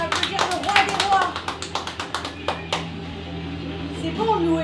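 At a children's worship gathering, a few people clap in a quick, rhythmic burst of close, sharp hand claps that slows and stops, while voices speak and cheer underneath.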